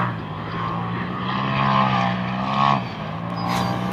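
A Polaris RZR Turbo S side-by-side on KMC wheels and Carnivore tires, engine running with a steady droning hum that swells slightly and dips near the end, heard from a short distance.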